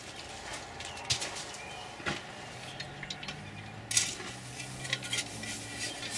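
Vermiculite and perlite potting mix being mixed together for transplanting tomatoes and peppers, heard as faint, sparse rustles and light knocks at a quiet level, with no voices.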